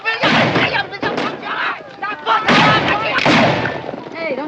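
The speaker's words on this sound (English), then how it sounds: "Hey, don't shoot across the wagons. You might hit one of our own men." Loud, dense gunfire and booming blasts from a western film wagon battle, with overlapping shots and rumbling bursts mixed with shouting voices throughout.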